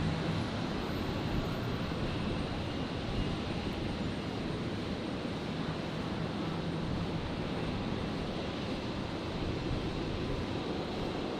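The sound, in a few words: aircraft landing at Brisbane airport runway 01 right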